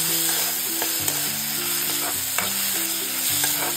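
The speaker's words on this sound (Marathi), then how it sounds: "कांदा हलकासा गोल्डन ब्राउन झाला ना की यामध्ये आपल्याला टोमॅटो टाकायचा आहे।" Half a medium tomato is stirred into golden-brown onions in a hot pan, making a continuous close sizzle broken by soft scrapes and clicks from the spoon. No one speaks.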